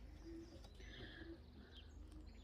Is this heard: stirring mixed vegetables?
no